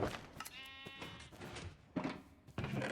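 Minecraft sheep bleat in a few short, nasal, wavering calls mixed with blocky thuds and game clicks, close and fairly quiet, with no talking over them.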